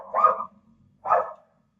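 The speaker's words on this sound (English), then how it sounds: "My dog is barking, so sorry for that noise." Indoors, a house dog gives two separate barks, each short and somewhat muffled, a short way off, set apart by a brief silence.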